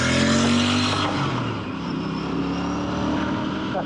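Royal Enfield Bear 650 parallel-twin motorcycle engine while riding, a loud steady exhaust drone with the pitch dropping as the rider eases off and then climbing again, with wind rushing past.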